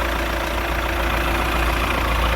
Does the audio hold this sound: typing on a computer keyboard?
no